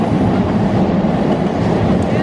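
Trains passing near a station in Japan, a loud, close, continuous rumble of wheels on rails with a steady rolling roar throughout.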